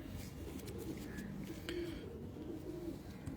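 Pigeons of an Ustad's prized Multan breeds cooing in a breeder's loft, soft low murmuring coos repeating steadily close by, with occasional faint chirps over a constant room hum.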